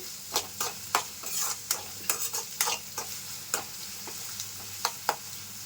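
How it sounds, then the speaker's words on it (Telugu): Paneer pieces are tossed and stirred in a pan over a high flame, giving repeated sharp scraping clacks in an irregular rhythm above a soft, steady sizzle, close and fairly quiet with no talk. "హై ఫ్లేమ్లోనే పెట్టుకొని ఇవి టాస్ చేసుకోవాలండి"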